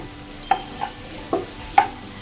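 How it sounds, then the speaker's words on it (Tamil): Capsicum and onions are stir-fried in a pan over high flame, a soft sizzle under four distinct clinks of a spatula against the pan, spaced unevenly. "அடுத்தது வந்து பார்த்திங்கன்னா நம்ம கேப்சிகம் போடுறோம்"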